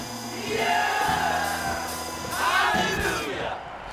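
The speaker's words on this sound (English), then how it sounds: "So the people shouted and the wall fell down flat." A large crowd of Israelites shouts together at the fall of Jericho's walls, a loud sustained roar of many voices rising in two swelling waves over about four seconds.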